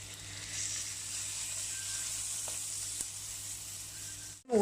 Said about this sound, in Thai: ผัดจนหอมใหญ่เขาเปลี่ยนเป็นสีใสๆนะคะ ตามด้วยหมูสามชั้นสไลด์ค่ะ